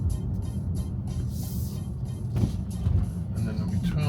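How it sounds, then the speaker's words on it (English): Steady road and wind noise inside a Tesla electric car driving slowly, a continuous low rumble with a person talking over it. "So this is about the road noise we have when we drive, maybe wind noise."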